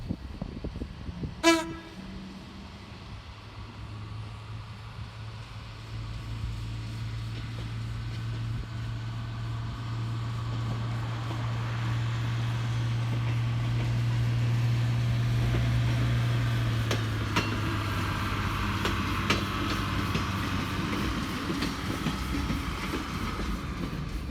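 A train pulls into Buxton station in New South Wales, its horn sounding sharply at the start before a steady low engine rumble builds and holds, with faint wheel clatter as it arrives.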